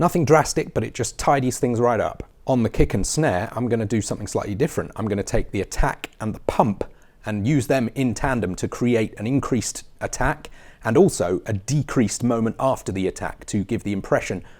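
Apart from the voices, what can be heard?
None of the usual background noises is heard.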